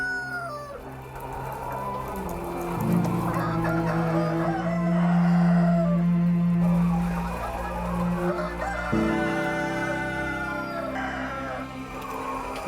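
Chickens and roosters on a Korean poultry farm cluck and crow continuously, a loud dense chorus of overlapping birds with no talk.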